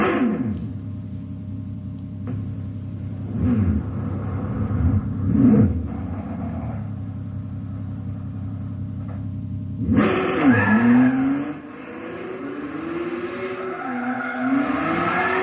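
Volkswagen GTI Roadster Vision Gran Turismo engine in Gran Turismo 6, a steady mid-pitched idle drone with a couple of brief blips, then a sharper rising rev and shifting engine note in the latter half.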